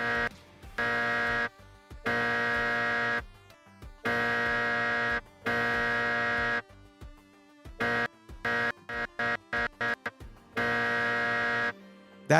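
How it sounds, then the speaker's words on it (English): A harsh electronic buzzer sounds in long sustained blasts, then in a rapid string of short stuttering bursts, loud and close with no talk over it. "I need to have a buzzer for when you're BSing."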